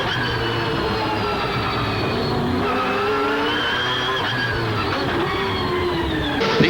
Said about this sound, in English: There's Hausmer coming on the brakes as he comes up on a GTU Mazda